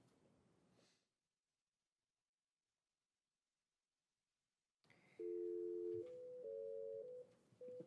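Steady dual-pitch telephone tone sounding over a phone line as a call is placed during a Radford city council session, starting after a long silence and holding for a few seconds with a pitch shift, clear and fairly loud.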